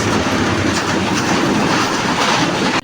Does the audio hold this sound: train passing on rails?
yes